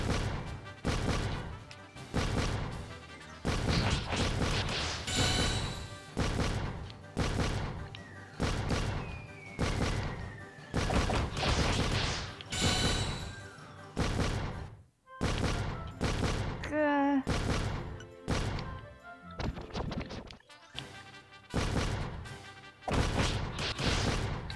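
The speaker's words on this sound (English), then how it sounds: "Those cannons are so loud." Cannons fire repeatedly in the video game Half-Minute Hero, a rapid run of loud booming blasts and crashing impacts that continues almost without pause, with brief game effects mixed in.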